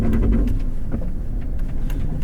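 A 2019 Lexus LX570 with crawl control engaged, its brakes pulsing in a run of soft clicks and thumps over a steady low engine hum inside the cabin, with no talking.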